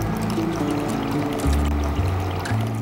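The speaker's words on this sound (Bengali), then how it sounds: "এটাতে জল দিয়ে দেব হ্যাঁ ধোয়ার জন্য যতটুকু লাগে" Water pours into a bowl of lentils for washing, a steady close splashing fill with low gurgling tones that shift as the level rises, running continuously without talk.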